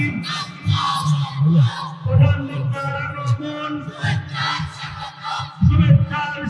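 Crowd at an outdoor religious gathering in Chattogram shouting the takbir in answer, loud rhythmic massed chanting voices rising and falling in repeated surges, close and full.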